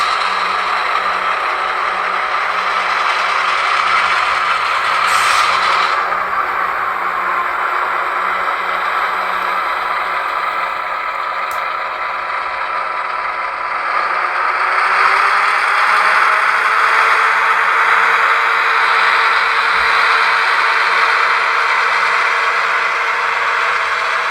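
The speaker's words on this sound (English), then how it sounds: "turn on our dynamic brakes." A ScaleTrains Southern Pacific SD7R model locomotive with LokSound v5 DCC sound runs its dynamic brakes, which whine loudly with a broad hissing, roaring fan-like noise over a low electric hum, steady and continuous with slight shifts.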